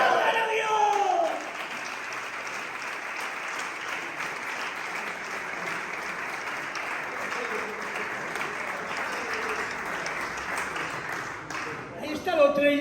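A church congregation claps and applauds steadily, with a preacher's voice calling out briefly at the start and again just before the end.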